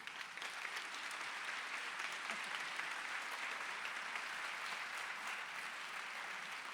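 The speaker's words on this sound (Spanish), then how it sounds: "un fuerte aplauso para Joaquín Sevilla" A lecture audience applauds steadily at a faint, distant level, a dense unbroken patter of clapping that holds evenly throughout.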